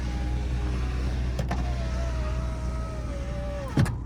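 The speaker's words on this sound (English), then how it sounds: "windows go down and up, but the actual window makes a popping sound at the last minute" A Nissan Skyline R34 GTT's electric power window motor whirs steadily through a low engine idle, ending with a sharp pop as the glass reaches the end of its travel.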